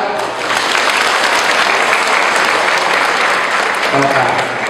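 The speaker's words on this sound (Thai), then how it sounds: "ปรบมือดังๆด้วยครับ" Villagers gathered at a Thai temple clap loudly after an abbot is chosen, a close, dense and continuous round of applause with some voices underneath near the end.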